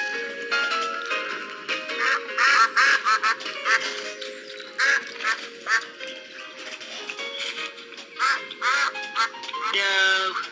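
Ducks quacking at a park in repeated bursts of varied loudness, moderately close, with short gaps between calls and a continuous tonal hum running underneath.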